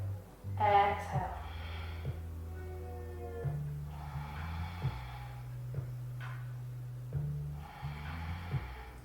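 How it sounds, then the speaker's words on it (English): A person breathes out during a yoga core exercise. Soft, breathy exhalations come in several separate bursts over a low, sustained musical drone. "Exhale."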